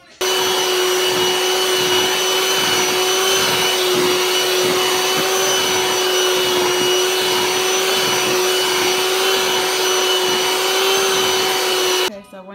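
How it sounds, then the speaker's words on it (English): An electric hand mixer whips mashed potatoes with a steady, loud motor whine that runs unbroken for about twelve seconds before cutting off at the end. "Took the hand mixer and I blended the mashed potatoes together"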